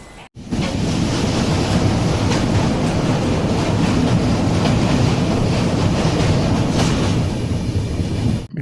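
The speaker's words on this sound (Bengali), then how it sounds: "নির্ধারিত সময় থেকে 10 মিনিট আগে ট্রেন এসে পৌঁছালো মালদা টাউনে" Howrah–Guwahati Saraighat Express train at Malda Town station gives a loud, steady rail rumble with a faint rhythmic clatter that runs for about eight seconds. No voices are heard.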